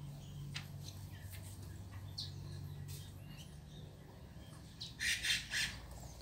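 Small wild birds squawk and scuffle at an outdoor feeder, giving a few sharp, bright calls near the end over a steady low hum and faint background chirps.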